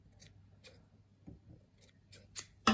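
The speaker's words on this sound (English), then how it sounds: "And then I'm going to take the scissors and snip them to the right length." A few quiet, crisp scissor snips trimming the felt whiskers of a needle-felted mouse, spaced irregularly, ending with one louder, sharper cut close by.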